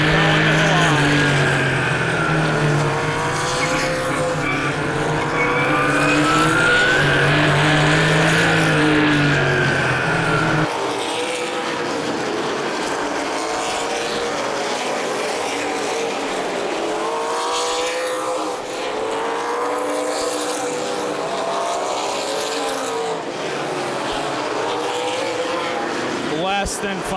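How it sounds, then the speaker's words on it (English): Stock cars roaring around Plymouth Speedway during the 2011 CRA Super Series Summer Championship 125, engines whining up and down as cars pass and jostle for position, loud and continuous with an announcer talking over them. "Third and fourth place cars, Derek Griffin and Terry Fisher Jr."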